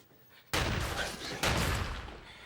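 A gunfight during a film heist shootout: two sharp, heavy blasts about a second apart, each followed by a loud, sustained roaring wash of noise that carries to the end.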